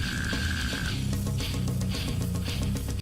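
Slam metal excerpt, dense and loud with heavy distorted low guitars, pounding drums and growling texture in a continuous chugging groove, with no speech over it.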